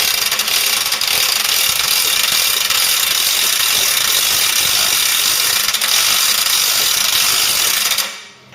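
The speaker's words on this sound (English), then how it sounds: "I'm on a 19 impact gun" A pneumatic impact gun with a 19 mm socket hammers at a seized fastener on a Ford Cortina part clamped in a vise, a loud continuous rattling burst lasting several seconds before cutting off abruptly.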